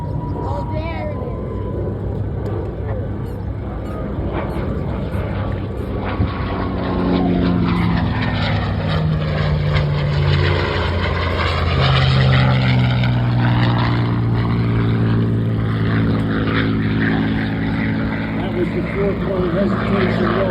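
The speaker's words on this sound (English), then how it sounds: "From the left, Scooter Young, P-51." A P-51 Mustang flies past at an air show, its piston engine and propeller giving a loud, rising then falling drone with a clear pitch sweep as it passes, while an announcer talks over it.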